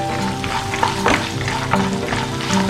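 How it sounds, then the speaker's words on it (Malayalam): Garlic frying in hot oil for bonda: a steady, loud sizzle up close, punctuated by a few stirring scrapes and clinks, with no talking. "അത് ചൂടായി വരുമ്പോൾ എടുത്തു വെച്ചിരിക്കുന്ന വെളുത്തുള്ളി ചേർക്കുക"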